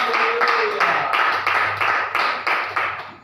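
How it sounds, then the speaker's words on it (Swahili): Congregation clapping during a church service, a loud steady run of rhythmic hand claps in regular beats that carries through the whole stretch, with a low sustained hum underneath. "Pia Yesu makofi mazuri."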